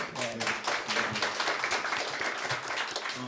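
Audience applause for a professor after a lecture at a forum, a steady wash of many hands clapping at close range, sustained throughout.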